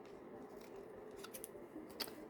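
Scissors snipping away excess lace trim, a few quiet close crisp cuts over a faint background hum, with a sharper snip near the end.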